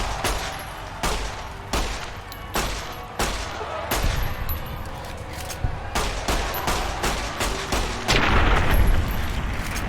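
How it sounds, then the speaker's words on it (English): Rapid video game gunfire crackles in dense bursts, a string of sharp shots and booming reports spaced through the stretch, loud and close, growing heavier near the end. "I can just start shooting him immediately?"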